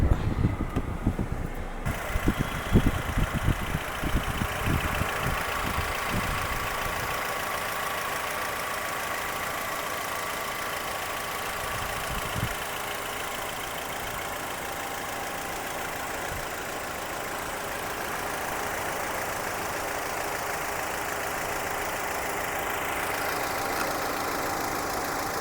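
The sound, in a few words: 2020 Hyundai Creta car engine idling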